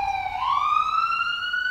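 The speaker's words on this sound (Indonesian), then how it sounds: "Kok sering banget kita mendengar suara sirine mobil ambulans?" An ambulance siren wails as a single rising tone that sweeps upward and holds, clear and fairly close with no other sounds.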